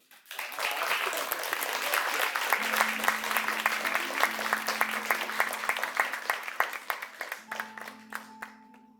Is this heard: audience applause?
yes